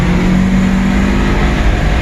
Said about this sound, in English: like when it slips, it'll just rev up.